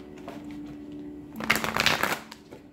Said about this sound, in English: one more shuffle for Pisces